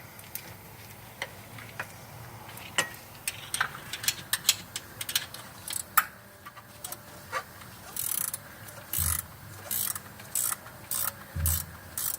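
A hand ratchet loosening a bolt during an onboard air system install, first scattered sharp metallic clicks, then quick bursts of rapid ratcheting strokes, close and fairly loud against a quiet background.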